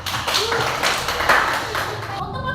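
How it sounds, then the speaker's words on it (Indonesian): A classroom gives a short burst of applause for students Haikal and Grace, with scattered hand claps mixed with voices of people talking. "Tepuk tangan buat Haikal dan Grace"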